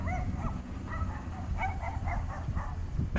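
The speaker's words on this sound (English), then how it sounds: "Little doggy barking at me." A small dog yips and barks in a quick run of short, close barks over steady outdoor background noise during street scrap collecting.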